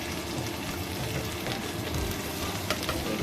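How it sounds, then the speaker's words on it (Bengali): Chicken frying on a low flame with coriander leaves, green chillies and pepper, making a soft, steady sizzle with faint crackles and occasional small pops, fairly quiet and without talk. "লো ফ্লেমেই আমি ভেজে নিচ্ছি।"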